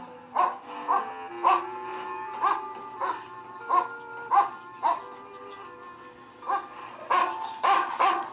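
A dog barks repeatedly in a steady series of roughly a dozen mid-distance woofs, evenly spaced with short pauses, alone against a quiet background.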